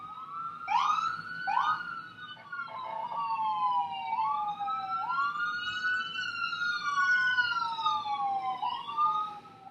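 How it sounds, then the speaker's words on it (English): A siren outside wails in rising and falling sweeps, switching between fast yelps and slower wails, heard steadily for several seconds with no voices. "let's wait for the siren."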